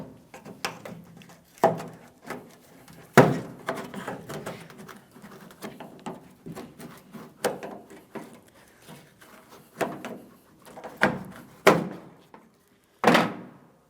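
Plastic trim tool prying a tailgate trim panel loose on a 2007-2014 GMC Sierra 2500 HD, heard as repeated sharp snaps, clicks and thuds at irregular intervals over fourteen seconds, close and distinct with quiet creaks between.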